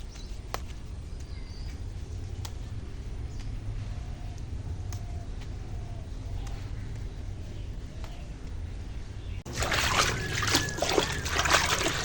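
Jute leaves being washed in water make a soft, continuous trickle with light dribbling, then turn into a louder burst of splashing and sloshing over the last few seconds.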